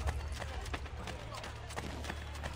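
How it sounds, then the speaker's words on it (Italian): Horses gallop with steady, rapid hoof clip-clops in the Assassin's Creed Brotherhood video game, quiet and continuous beneath low game ambience and speech. "Stai attenti ai cavalli, signora."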